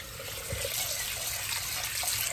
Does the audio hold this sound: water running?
yes